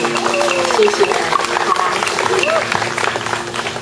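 A concert audience applauds an orchestra, sustained dense clapping filling the hall while a presenter speaks over it.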